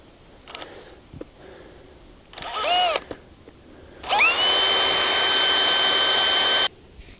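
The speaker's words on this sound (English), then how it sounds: "I'm just going to drill a couple holes in this" A power drill bores holes in a workpiece while a well pump is being pulled: a short first burst, then a longer steady high whine after the motor spins up, recorded close and loud.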